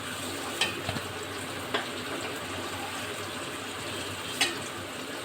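Pieces of taro (mankachu) frying in a pan for a curry with rohu fish, a steady low sizzle with a few faint scraping taps of stirring, no talk.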